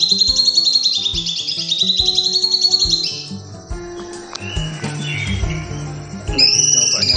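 A caged cucak cungkok sings loudly and up close, with rapid high warbling phrases, a short break of scattered chirps and clicks, then another bright whistled burst.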